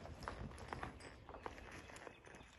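Hooves of a 2-year-old colt with 60 days of training as it makes a lead departure: a fast, rhythmic run of soft thuds on a dirt surface, heard at a distance.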